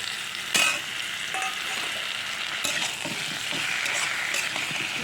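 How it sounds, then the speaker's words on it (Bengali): Potato and papaya fry with a ground spice paste and green chilli in a pan, a steady close sizzle broken by a few sharp scraping stirs. "একটু ভালো করে নেড়ে ছেড়ে নিই"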